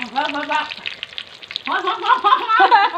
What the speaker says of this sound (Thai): อันนี้กำลังทอดอีกค่ะ